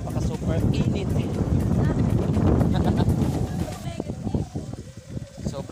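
Wind buffets a microphone outdoors in a breezy open area, a loud, continuous low rumble and rushing that fills the clip while a person talks over it.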